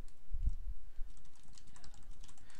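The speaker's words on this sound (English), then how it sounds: "Typing it in." Quiet typing on a computer keyboard, a short burst of soft clicks rising then fading over a few seconds against faint background hiss, no voices.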